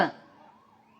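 A 108 ambulance siren sounds at a roadside election campaign event in Cuddalore, its wailing tone loud at first and then fading and sliding lower as the vehicle passes within about a second.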